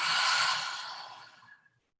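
A single slow, breathy exhale during a guided meditation breathing exercise, fading out over about two seconds.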